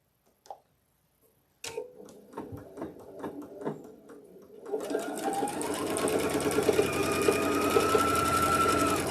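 A sewing machine starts with a few slow, separate ticking stitches, then speeds into a steady, continuous whirring run that grows louder and stays close, with no talk over it.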